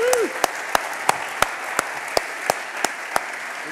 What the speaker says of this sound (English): Can we have another round of applause for Mr. Christian Riley?